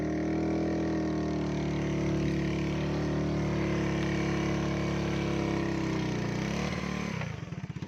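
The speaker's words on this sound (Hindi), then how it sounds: "ये मोटरसाइकिल की आवाज़ सुनिए।" A steady engine drone runs throughout, constant and fairly loud, like a motorcycle idling nearby, cutting off abruptly at the end.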